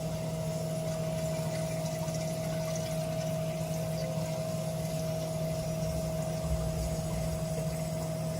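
An aquarium water-change pump runs steadily, giving an even rushing hum with a constant tonal whine and some water noise. It stays at the same level throughout with no talking.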